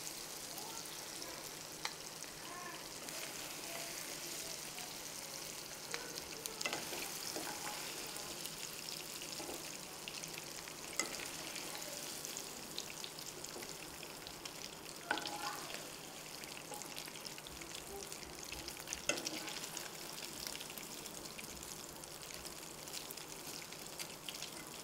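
Paneer frying in a pan, a continuous faint sizzle with occasional soft clicks of stirring, steady throughout and without speech.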